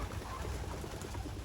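Young racing pigeons in a loft, soft low cooing from several birds close by over a steady murmur, no talking.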